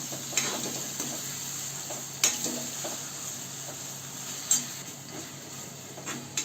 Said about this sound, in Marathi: इथे आपला टोमॅटो परतून झालाय